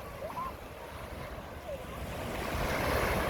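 Ocean surf at South Beach, Miami rolls in as a broad, steady wash that swells louder toward the end, with wind buffeting the microphone.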